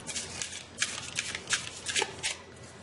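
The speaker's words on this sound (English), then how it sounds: "I want to draw a couple more cards" Tarot cards handled and drawn at close range, with soft repeated slides and flicks in an uneven rhythm, quiet and with no one talking.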